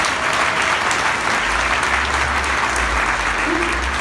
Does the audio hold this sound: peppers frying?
no